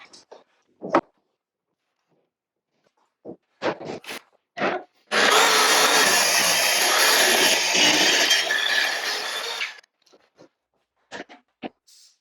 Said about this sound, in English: I've got a sheet of acrylic to cut, so I'm going to go ahead and put this track to use